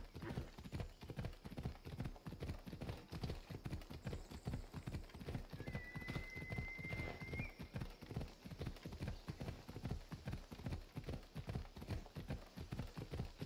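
Horse hooves clip-clop in a fast, regular gallop rhythm from a horse in Assassin's Creed Odyssey, close and continuous for the whole stretch, with a brief whinny-like tone partway through and no talking.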